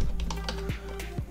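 A computer keyboard is typed on at close range: a few quick, distinct key taps sound over a steady electronic hum.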